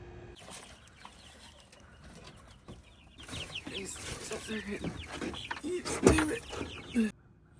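Chickens cluck and squawk over a busy farmyard background with clanks and rustling, growing louder toward the end.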